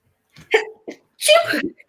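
A single sharp sneeze bursts out after a brief intake of breath, loud and close.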